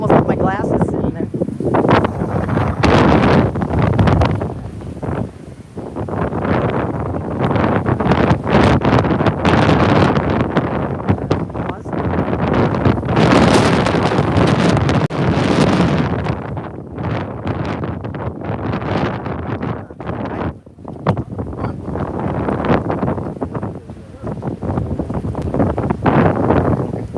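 Strong outdoor wind batters the microphone at Shelby Park in Eagle Pass, a loud continuous rumbling roar with surging gusts that masks almost everything else.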